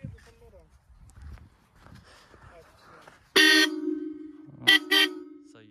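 A tractor horn, wet with water, honks loudly, one long blast followed by two shorter toots, after some quiet talking and background noise.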